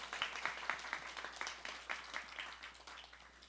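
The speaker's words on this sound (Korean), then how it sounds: "최고의 영광을 부활하신 우리 주 예수 그리스도께 박수로" A church congregation claps during an Easter morning worship service, a fairly quiet spread of separate hand claps with scattered sharper smacks, steady and moderately distant throughout.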